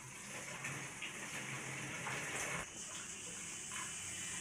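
Bottle gourd leaves washed under a running tap in a kitchen, a steady close splashing gush of water that continues throughout with small shifts as the leaves are handled.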